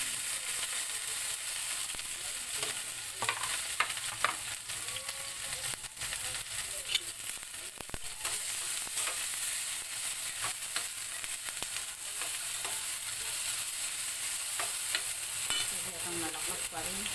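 Tomatoes frying in a pan with onion for a bitter gourd (ampalaya) dish, a steady close sizzle under repeated scraping and clattering stirs, no talking.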